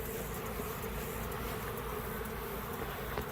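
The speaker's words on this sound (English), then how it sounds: "it's a lot of bees that are not happy right now" Honey bees buzz as nucs are installed on a farm, a dense steady drone from a large, agitated swarm close by with no talk.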